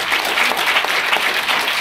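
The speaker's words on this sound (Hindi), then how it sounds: "तो ये टीम के लिए जोरदार तालियां होनी चाहिए" A seminar crowd gives a loud, dense burst of applause for a team at a business success meeting, with continuous clapping and no one speaking.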